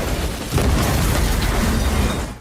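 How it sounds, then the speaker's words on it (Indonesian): A car's fuel tank explodes in a film action scene, a loud, close blast that swells into a dense, sustained roar of fire and debris before cutting off abruptly. "Secara mengejutkan, Alistair berhasil selamat dari ledakan."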